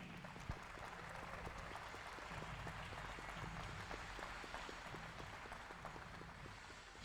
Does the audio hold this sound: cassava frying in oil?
no